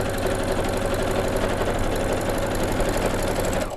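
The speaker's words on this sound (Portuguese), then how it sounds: "E vou à máquina passar uma costura nas laterais, uma costurinha de segurança, bem na beiradinha" Sewing machine running a steady seam along the side edges of fabric for a machine cover, an even rapid mechanical whir with a fast stitching rhythm that holds without a break and stops at the end.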